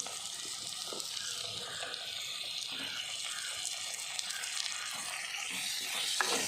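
Tomatoes hitting softened onions in a hot pan for a Kerala-style tomato moru curry, giving a steady, close sizzle and frying hiss throughout with occasional stirring scrapes and no voices.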